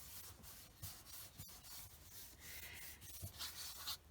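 Soft, close rubbing strokes over the back of a papercraft Christmas hybrid card, a steady scuffing texture with one sharp tick partway through and no talking.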